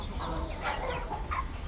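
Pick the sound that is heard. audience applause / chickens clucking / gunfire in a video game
chickens clucking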